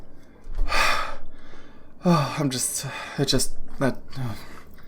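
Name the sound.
heavy breathing after collapsing, voiced by a roleplay player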